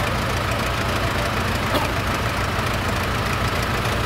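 A snow removal tractor's engine idles steadily and loudly at close range, a dense rumbling drone with a faint knock and no speech.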